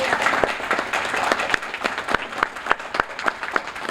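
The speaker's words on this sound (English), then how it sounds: "Let's give him a hand of applause" Conference attendees give a round of applause for a state governor: dense, lively clapping from many hands, with a few sharper nearby claps standing out.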